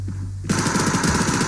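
Automatic gunfire in the Survarium shooter game, a sudden loud rapid burst of shots starting after a brief quiet moment and continuing steadily.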